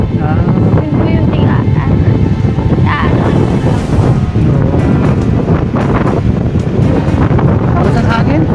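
Strong wind gusting outdoors by the water, buffeting the microphone in a loud continuous roar, with people talking throughout.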